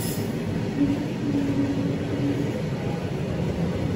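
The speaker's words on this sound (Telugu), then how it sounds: "Goods Bandi cross over." A goods train crosses past at a station in a steady, moderately quiet rumble of rolling wagons, with a faint tonal whine running through it.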